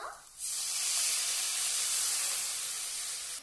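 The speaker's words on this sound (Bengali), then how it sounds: "ভালো করে নেড়ে নিয়েছি, এখন আমি জলটা দিয়ে দেব।" Water poured into a hot pan of kuche fish curry bursts into a loud, sustained steaming hiss that begins abruptly after a brief quiet moment and carries on evenly to the end.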